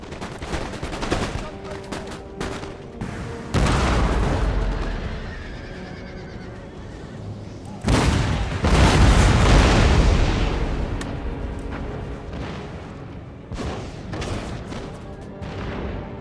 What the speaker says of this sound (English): they're within range of the canister shots now